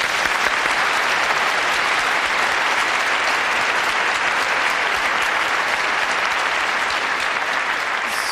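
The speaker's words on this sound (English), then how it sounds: "Give them a round of applause, please." Studio audience at a live televised paranormal investigation show breaks into sustained, dense applause, steady and loud throughout with no voices over it.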